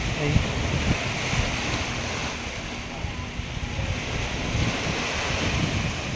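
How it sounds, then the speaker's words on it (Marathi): Steady broadband wash of surf rolling onto a Mumbai beach, mixed with wind rumble on the microphone, continuous throughout with no clear breaks. "लाटांचा आवाज बघा किती मस्त आहे की"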